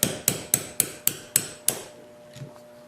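Seven sharp, evenly spaced hammer strikes ring out close by as a pin is driven out of a pistol trigger assembly, then a short quiet stretch with a faint knock.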